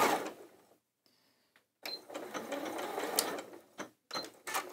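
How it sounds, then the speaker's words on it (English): A sewing machine stitching part of a seam on a quilt strip, with short bursts of fast mechanical whirring broken by brief pauses and a few clicks, close and fairly quiet. "So we only need to sew half of this strip here."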